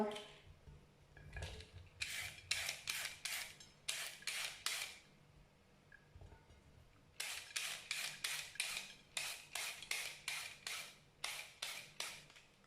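Vegetable hand-grated on a grater for a stir-fried rice vermicelli dish, heard as quick bursts of rhythmic rasping strokes in two runs with a short pause between them, close and fairly loud with no talk.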